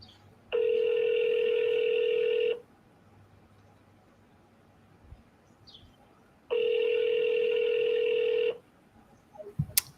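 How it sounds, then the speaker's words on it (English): An unanswered phone call rings out as two long electronic ring tones, each lasting about two seconds, separated by a quiet gap with faint background noise, and no voices are heard. "It just keeps ringing."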